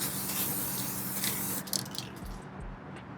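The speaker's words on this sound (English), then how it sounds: "AESub spray" A steady hiss of AESub 3D-scanning spray sounds close by in a car engine bay, continuing for most of the clip before a few faint clicks and shuffles.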